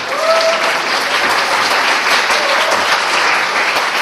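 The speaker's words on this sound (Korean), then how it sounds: "뜨거운 박수로 환영해 주시기 바랍니다." An audience at an inventors' awards ceremony applauds to welcome a presenter, loud, dense, even clapping sustained throughout without a break.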